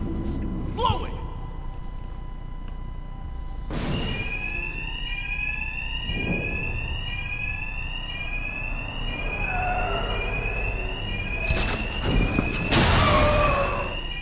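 An alarm rings inside the Batman: Arkham Knight video game, a repeating electronic tone that runs loud and steady across the whole stretch, overlaid with game sound effects and spoken voices.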